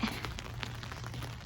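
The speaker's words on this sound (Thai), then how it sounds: "ฝนตกจ้ะ" Rain falls outdoors in a steady soft patter with scattered drop impacts, heard faintly and continuously without any talking.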